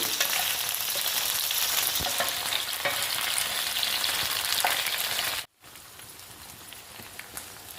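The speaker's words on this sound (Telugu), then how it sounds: "ఈ వంకాయలన్నీ వేయించుకోవాలి ఆయిల్లో ఫ్రై అవ్వాలండి వంకాయలన్నీ" Brinjals (eggplants) fry in hot oil with a dense, continuous sizzle, close and steady. It stops abruptly near the end, then resumes at a lower level.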